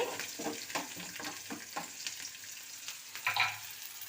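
Sliced onions frying in a pan for idli upma, a soft continuous sizzle with rhythmic stirring scrapes and a sharper pop near the end.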